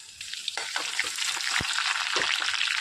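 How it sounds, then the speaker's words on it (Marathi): Crushed garlic sizzling and frying in hot oil in a kadhai, a steady close crackle with occasional louder pops and stirring scrapes, no talk. "आता त्यात जाडसर ठेचलेला लसूण टाकूया।"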